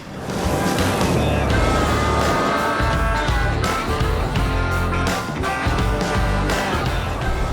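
Volvo FH16 B-triple road train truck travelling toward Millmerran, a loud, busy roar of engine and rolling road noise with rattles and gusty bursts, close and continuous throughout.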